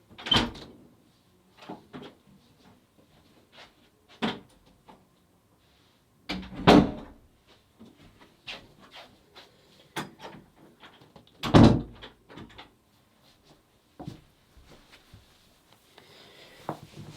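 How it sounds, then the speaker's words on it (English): Door sounds inside a house, a series of scattered knocks, thunks and latch clicks with two louder bangs, separated by near silence, reported as a door opening by itself. "I just heard someone open the door out there, and I went out there and it had opened by itself"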